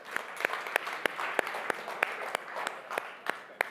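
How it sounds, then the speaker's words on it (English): A small audience at a humanoid robotics summit applauds, with individual claps distinct within a brief, moderately dense round of clapping. "So please give a warm round of applause to Evan and Kaan."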